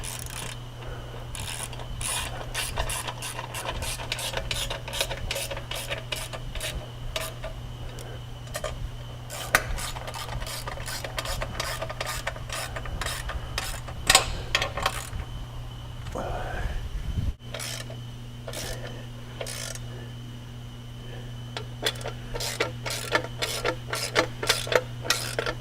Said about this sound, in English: we can go ahead and tighten it down.